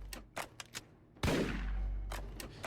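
Hand cannon fire in a pirate video game: several sharp shots at the start, then one loud blast with a long booming tail, followed by more quick shots near the end.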